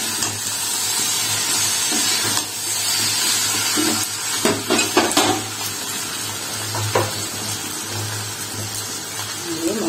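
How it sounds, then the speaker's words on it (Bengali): Paneer and potatoes frying in a pan for shahi paneer, a steady sizzle with scattered clinks and scrapes of stirring, busiest midway, close and moderately loud. "এর মধ্যে আমি পনির আর আলুটা দিয়ে দিলাম। তো নাড়াচাড়া করে"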